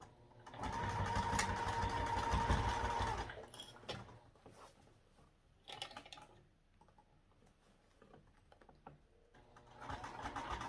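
A sewing machine with a zipper foot stitches a 3/8 inch seam, running steadily for about three seconds with a fast mechanical hum, then stops, leaving quieter handling noises and faint clicks.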